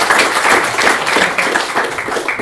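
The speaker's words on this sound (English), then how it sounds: "I would like to give you the floor and to welcome you with a round of applause." An audience claps at a public lecture on the global food crisis to welcome the speaker, with sharp individual claps in a fairly close, rhythmic burst of moderate size.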